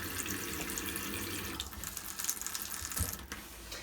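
Water runs from a pull-out mixer tap that doubles as the shower in a Europa 390 campervan fed by a 10-litre hot water tank, a steady close hiss with a few small clicks and knocks.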